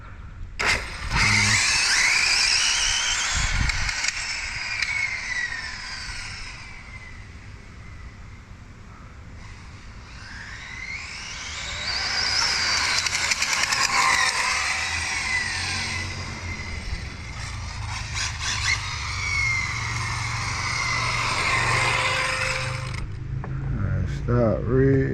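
Exceed Mad Drift 1/8 scale RC car on a speed run, its electric motor whining up in rising, sweeping pitch runs that climb and fall in several loud passes, with brief talk between runs.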